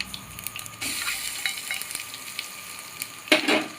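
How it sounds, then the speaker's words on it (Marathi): Ground masala paste going into a pan for a spicy Maharashtrian drumstick amti sizzles on low heat, with soft scraping stirs and a louder hiss near the end as it is mixed in. "आता त्याच्यानंतर आपण जे वाटलेलं वाटण होतं ना ते ह्याच्यात घालून घ्यायचं"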